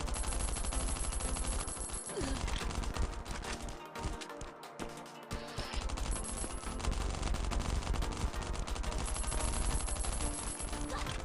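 Dense, continuous automatic gunfire from the Last Island of Survival survival shooter, loud and sustained with rapid bursts almost throughout, briefly thinning midway before resuming.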